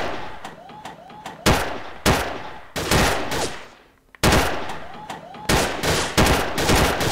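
An Allied SMG 26-40 fires in the VR shooting game Gun Club VR, loud sharp bursts repeating in several volleys with short pauses between them, close and dominant.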